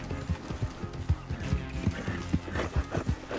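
Horse hooves clip-clop in a brisk, steady trotting rhythm in the video game Red Dead Redemption 2, close and moderately loud over a faint background hum.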